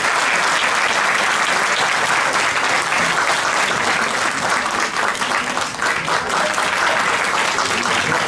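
Sustained, even applause from a concert audience after a Turkish classical music choir performance, a dense steady clapping texture filling the whole stretch with no voices over it.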